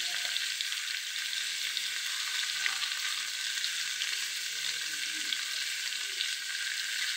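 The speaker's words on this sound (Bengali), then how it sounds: "সুন্দর করে পনিরটা ভাজা হয়ে গেছে, পনিরটা উঠিয়ে নেব।" Round slices of paneer frying in oil in a pan, a steady close bright sizzle running evenly throughout with no talk.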